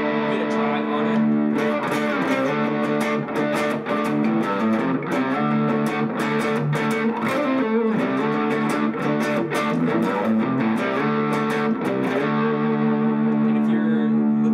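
Electric guitar from the Gretsch Streamliner series, its humbucking pickups run through overdrive, plays a continuous, loud run of driven chords and notes with a steady strummed rhythm throughout.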